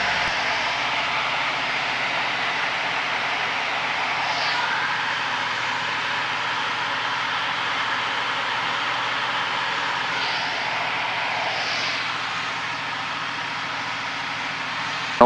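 Light training airplane engine holding a steady, continuous drone throughout during slow flight practice at 55 knots, loud and unbroken with no talk.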